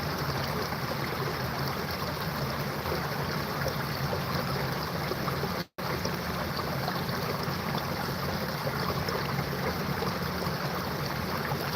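Bubbling, trickling creek water flows steadily and close by along a snowy riverside hike, a continuous broadband rush with one brief dropout partway through.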